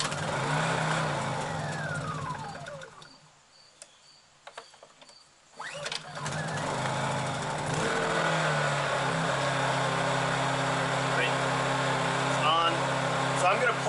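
A portable generator with the choke on starts up after a short quiet pause, then runs as a steady, loud mid-pitched engine drone close by, and a voice talks over the start.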